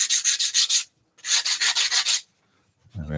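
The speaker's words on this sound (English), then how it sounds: "100 grit on the drum sander," A power drum sander fitted with 100 grit abrading a wooden spatula, heard as two bursts of harsh, pulsing rasping close up, separated by a short pause.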